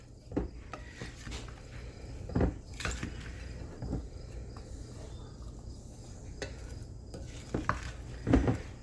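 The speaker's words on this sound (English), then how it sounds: "you just want to get this all mixed up good so everything is incorporated" Black bean salad with oil, juice and chopped vegetables is tossed in a bowl, giving soft scraping and clinking of utensils against the dish in irregular bursts, fairly quiet, with a faint insect chirp in the background.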